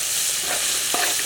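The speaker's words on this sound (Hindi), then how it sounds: "अदरक लहसुन का पेस्ट है मेरे पास 2 चम्मच, ये शामिल कर लेंगे। इसे भी थोड़ी देर के लिए भूनना है।" Ginger garlic paste, with spices, fries in hot oil for a Kabuli chicken pulao, giving a brief, dense, continuous sizzle close by.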